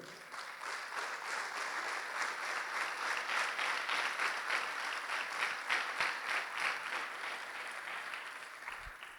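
A church congregation claps together in a sustained burst of applause, a dense, even patter lasting several seconds before tapering slightly at the end.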